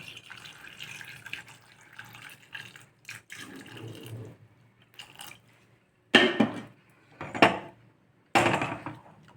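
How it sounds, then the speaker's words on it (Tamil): Water pours and splashes into a pressure cooker pot of chow chow kuzhambu in several short, loud bursts, with quieter clinks and handling noises before them. "தேவையான அளவுக்கு தண்ணி விட்டுக்கலாம்"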